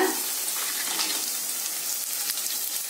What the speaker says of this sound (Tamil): இப்ப நம்ம எடுத்து வச்ச காஞ்ச மிளகாய் சேர்த்துடலாம்.